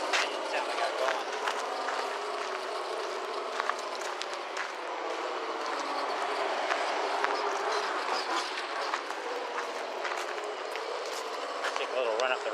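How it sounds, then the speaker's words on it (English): Simulated engine sound from an RC sound kit on an Axial SCX10 Deadbolt crawler driving in a yard, a steady continuous mechanical drone with clicks and rattles throughout, fairly close. "See if it sounds good enough with the engine sound I got going."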